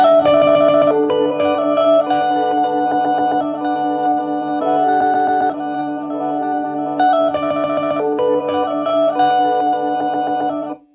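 A clean, tonal music sample plays over a PA, with bright melodic notes in repeating phrases and a steady low drone, ending abruptly.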